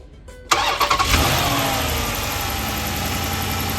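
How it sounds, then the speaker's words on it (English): A car engine cranks and catches after a quiet pause, then settles into a steady idle, close and loud, with no one talking, recorded during a MAP and MAF sensor voltage check with key on. "now we're gonna turn the key on, engine on as well"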